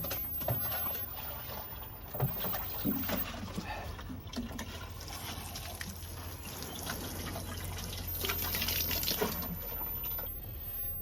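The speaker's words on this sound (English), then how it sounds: "basically just give that a water" Compost in a tub, normal compost topped with sieved compost, being watered; a steady trickling, splashing wash of water runs throughout at close range, with a few louder bumps along the way.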